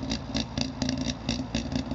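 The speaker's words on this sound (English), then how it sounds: "She's got the distinctive exhaust lumpy lump note." Warmed-up DKW car engine with a lumpy, uneven exhaust note, pulsing in a quick irregular beat that sounds close and fairly soft.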